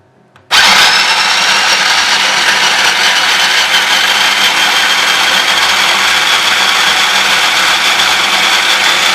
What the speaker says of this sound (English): Next we're gonna blend the squash.